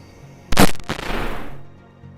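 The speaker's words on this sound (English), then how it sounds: "The first boar arrives at 22:03 and is quickly introduced to a bullet." A single rifle shot cracks out at night at a wild boar, a sharp loud report followed by a rumbling echo that fades over about a second in a quiet outdoor setting.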